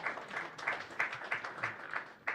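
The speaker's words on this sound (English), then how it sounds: "A round of applause for ECOWAS Parliament." Applause from an audience at an ECOWAS Parliament 25th anniversary event, a soft, distant patter of clapping that swells in repeated bursts over about two seconds.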